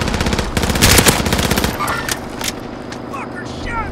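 Bursts of rapid automatic gunfire in Call of Duty Warzone, loud and close for the first two seconds, then tapering off into quieter game sounds with scattered high chirps.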